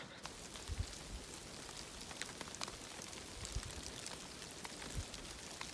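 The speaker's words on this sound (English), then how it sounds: "when it's raining and the sun is out" Steady rain patters on a surface, with scattered louder drops and low thuds over a constant soft hiss.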